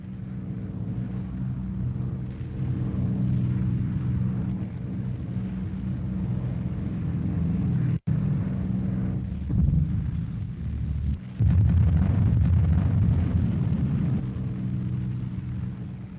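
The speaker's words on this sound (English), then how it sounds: "The flak gets thicker, and the pilot struggles to keep the Memphis Belle straight and level." Flak bursts around the WWII B-17 bomber Memphis Belle, with heavy low rumbling booms over a continuous engine drone, including a sharp break and louder blasts later.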